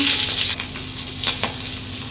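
Hot oil with cumin seeds sizzles loudly as green chilies go in for rui fish kalia, a bright crackling hiss that eases after a moment, then flares with a few sharp spits and pops.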